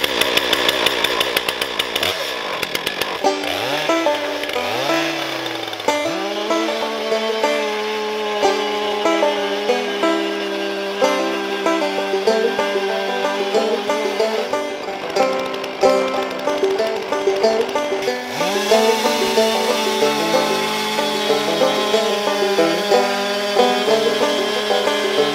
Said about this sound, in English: So I'm going to warm up the chainsaw and then make the first cut.